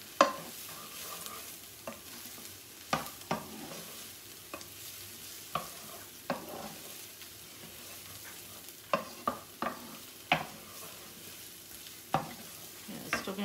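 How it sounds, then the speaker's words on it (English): Hamburger meat sizzles quietly while browning in a pan, with repeated scraping and tapping of a utensil breaking it up at an irregular rhythm, close and with no talking. "you just want to break it up and brown it and drain it"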